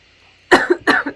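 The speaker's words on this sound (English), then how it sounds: "Sorry for the coughing." A person coughs twice in quick succession, close to the microphone, each cough a sharp harsh burst after a brief quiet start.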